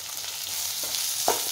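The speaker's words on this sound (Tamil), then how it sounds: "இது மல்லி புதினா கருவேப்பிலை இதையும் சேர்த்து ஒரே ஒரு வதக்கம் மட்டும்" Onions with coriander, mint and curry leaves sizzle steadily in a hot pan for chicken kulambu, with a couple of soft stirring scrapes, close up and alone.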